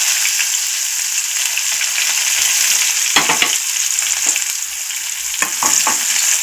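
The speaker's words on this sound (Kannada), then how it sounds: "ಸ್ವಲ್ಪ ಕರಿಬೇವು ಸ್ವಲ್ಪ ಇಂಗು ಈಗ ಈರುಳ್ಳಿನ ಹಾಕ್ತಾ ಇದ್ದೀನಿ" Onions frying in hot oil with cumin, mustard seeds, curry leaves and asafoetida, giving a loud, steady sizzle with scattered sharper crackles and stirring clinks and no talk.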